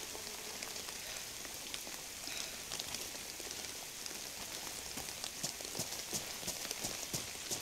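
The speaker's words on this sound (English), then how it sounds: "But I love the rain. The sound right here." Rain falls steadily in the DayZ survival game, a dense patter of drops on surfaces with scattered sharper ticks, moderately loud and continuous, with no voices.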